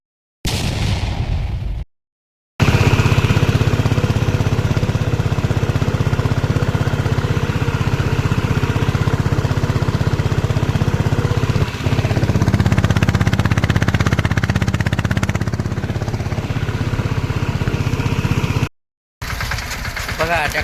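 Mini tractor engine running steadily for crop spraying, a loud continuous low rumble close by with a brief pause near the start and a short cut near the end.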